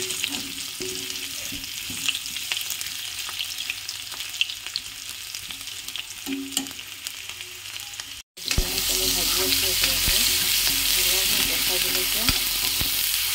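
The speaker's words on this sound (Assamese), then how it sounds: "অকণমান নমাই পেলাই মই অকণমান বিলাহী ফ্ৰাই কৰি দিম" Tomatoes fry in a pan on the stove with a crackling sizzle and occasional stirring. The sizzle grows sharply louder and denser partway through after a brief gap, with no talking.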